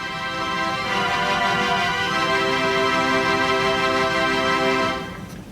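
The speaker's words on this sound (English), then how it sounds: "The next family are the string pipes," Theatre organ string pipes hold a bright, sustained chord, rich and reedy, steady for about five seconds before releasing.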